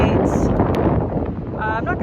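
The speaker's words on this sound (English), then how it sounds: "It's super windy out and kind of drizzling right now." Strong wind buffets the microphone outdoors on a drizzly February day outside a Rural King store, a close, rumbling roar running under a person talking throughout.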